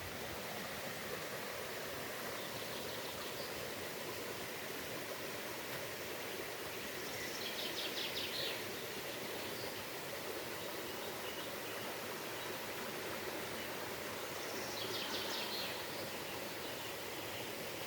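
Cold mountain spring water flows steadily in an outdoor setting near Khustup, Kapan, a continuous close rushing babble with faint bird chirps above it, no talk.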